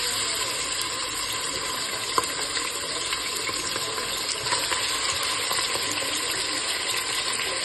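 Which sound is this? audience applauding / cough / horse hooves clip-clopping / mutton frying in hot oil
mutton frying in hot oil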